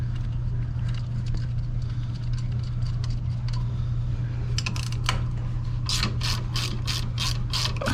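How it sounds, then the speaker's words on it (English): A ratcheting wrench turns pump bolts on a Laars Pennant commercial hydronic boiler, making fast clicking bursts near the end over a steady mechanical hum. "Luckily I have this ratcheting wrench here."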